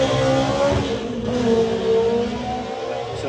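A turbocharged McLaren drag races at Santa Pod, its engine droning loud and near with a rising, sustained tone as it accelerates down the strip.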